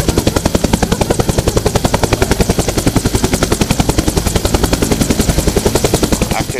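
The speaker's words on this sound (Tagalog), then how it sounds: "Nagpakitang gilas ang Philippine Air Force ng kanilang air landing at display ng kanilang search and rescue helicopter." Philippine Air Force search and rescue helicopter close by during an air landing display, a loud rapid steady chopping of rotor blades with a constant engine roar underneath.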